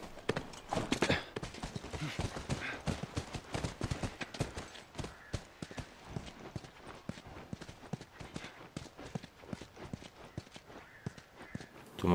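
Horse hooves clip-clop steadily in The Last of Us video game, a continuous close rhythm of sharp hoof strikes on hard ground throughout.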